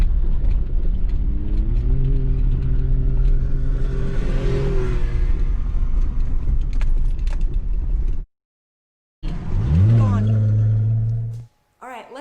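Vehicles driving recklessly on Bear Mountain road, engines revving and rising in pitch in loud sustained passes, then a brief silence before another close, loud acceleration surge.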